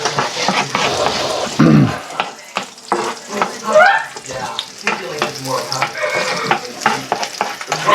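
Garlic frying in chicken oil in a pan, a steady close sizzle with stirring and scraping of a utensil, occasional clinks and brief louder spatters, with a voice speaking faintly now and then.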